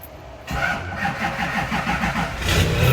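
A Hummer's engine cranks over with a labored, uneven churn before catching and settling into a rough, loud idle, heard close and without talking.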